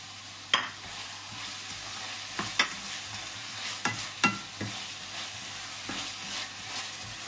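Tomatoes dropped into a hot frying pan for chicken pakbet, a soft continuous sizzle broken by several sharp stirring clacks of a utensil against the pan, heard close and alone.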